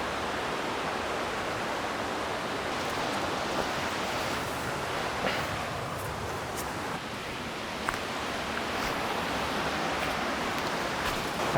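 Wild Creek Falls in Beltzville State Park roars as a constant broadband rush of falling water, steady and fairly close, beside a creek and swimming hole with no voices.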